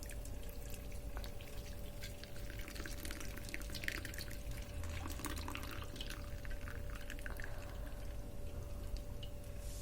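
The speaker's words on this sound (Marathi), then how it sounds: "इथे मी चाळणी ठेवली आहे आता मी गाळून घेत आहे तर आपण डाळिंबाचा ज्यूस गाळून घेऊया" Pomegranate juice strained through a kitchen sieve: a steady trickling, dripping flow of liquid runs close and continuous throughout, with no talking.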